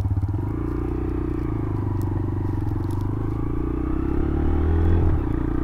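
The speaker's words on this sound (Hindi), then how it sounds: "silent starter" A TVS Raider 125 BS6.2 E20 motorcycle engine, started with its silent starter, idles close by with a steady low putter, then swells briefly with a slight rev near the end.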